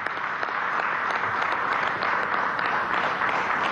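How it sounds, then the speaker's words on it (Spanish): Outdoor crowd at a food production event in Guárico gives steady, sustained applause, a dense even wash of many hands clapping at moderate distance with no break. "aquí lo que nos toca es darle un aplauso a ustedes"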